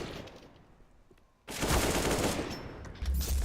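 Rapid rifle fire in the shooter game Counter-Strike, with a quiet stretch followed by a loud, dense burst of shots and the clatter of a firefight.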